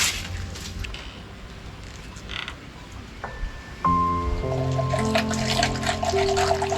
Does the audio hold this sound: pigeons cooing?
no